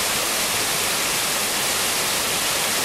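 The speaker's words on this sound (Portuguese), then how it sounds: "Aqui há queda d'água, cascata." Todtnauer waterfall in Germany: dense, steady rushing roar of falling water, loud and close, with no voices over it.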